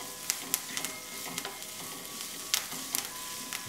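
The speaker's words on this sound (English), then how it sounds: "And brown that garlic a little bit." Minced garlic with a pinch of salt and thyme browning in a pan, a soft steady sizzle broken by small sharp pops and crackles spread unevenly through it.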